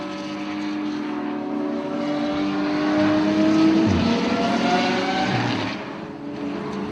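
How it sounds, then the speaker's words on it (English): A Ford Mustang muscle car's engine drones past on a race circuit, a raspy rising roar that swells to a peak mid-clip and fades, with the steady hum of other track noise beneath. "Lovely view of the Mustang there, that deep, raspy American muscle sound"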